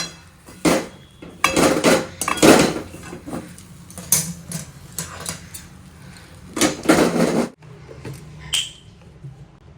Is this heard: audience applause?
no